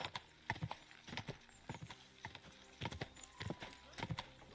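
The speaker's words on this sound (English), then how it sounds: "Horses have their work cut out to haul us." Rhythmic hoof clip-clop from horses at a brisk pace in the video game Kingdom Come: Deliverance, fairly close, with a voice briefly audible over the steady clatter.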